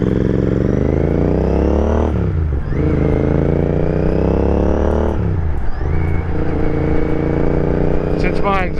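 Royal Enfield Continental GT motorcycle with a very loud aftermarket exhaust, riding with a deep throaty roar that climbs through revs, drops between gear changes and climbs again, close and dominant throughout.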